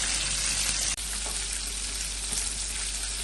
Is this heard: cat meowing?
no